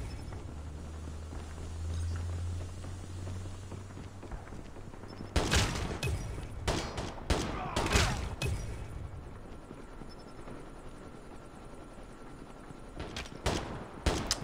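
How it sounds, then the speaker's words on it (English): Bursts of gunfire in the mobile shooter Call of Duty, in a one-shot-one-kill mode: scattered sharp shots cluster from about five seconds on, with a low hum at the start and a couple more shots near the end. "Someone's shooting at me."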